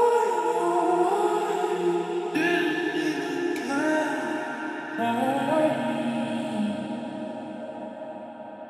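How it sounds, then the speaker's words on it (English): Arcade synth plugin in Logic Pro X for a zouk and kizomba track, playing alone as a dense, bright sustained texture with chord shifts every couple of seconds, fading slightly at the end. "So on its own, the arcade sounds like this."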